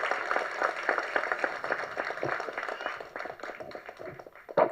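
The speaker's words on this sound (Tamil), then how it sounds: "எல்லோரும் ஒரு பெரிய கைத்தட்டு தட்டுங்க நம்ம தயாரிப்பாளருக்கு" Audience at a film trailer and audio launch breaks into clapping, a dense continuous patter that carries through the moment and swells briefly near the end.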